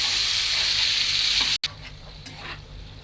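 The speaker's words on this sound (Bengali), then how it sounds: "আমি এখন মশলার সাথে আমগুলোকে মিশিয়ে দেব।" Raw mango pieces being stirred with spices in a hot pan for a sweet-sour pickle made with jaggery, producing a steady close sizzle with soft scraping stir sounds and a brief break midway.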